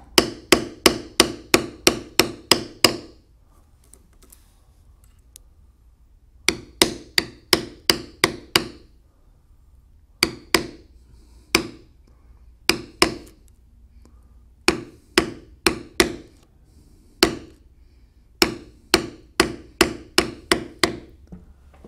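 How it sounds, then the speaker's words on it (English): A mallet strikes a beveler tool on leather, tooling around the outline of a carved standing moose. Crisp, close strikes come in rapid rhythmic runs separated by short pauses, with no voices. "I want to bevel completely around the outside"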